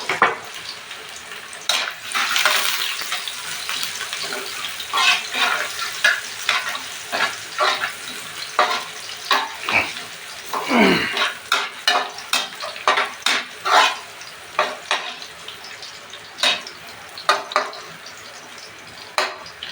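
Chopped garlic fries in oil, a crackling sizzle overlaid by a long run of rhythmic spatula strokes against the pan, the scraping growing regular and evenly spaced toward the end.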